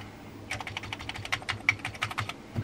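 Fast, uneven clatter of keys on a Commodore Plus/4 home computer keyboard being typed, a dense run of sharp close clicks with a few louder strikes, no voices.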